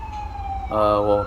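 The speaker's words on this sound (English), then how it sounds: "ambulance are going a little crazy out here right now where I live" An ambulance siren wails outside a home, a steady tone that shifts into a louder harmonic-rich blare partway through, heard from indoors at moderate distance.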